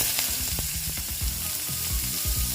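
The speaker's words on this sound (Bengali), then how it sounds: "পেঁয়াজটা ভেজে নিচ্ছি" Onions fry in a pan with cumin, a dense close sizzle with bursts of spattering crackle and stirring scrapes, steady and loud throughout with no voices.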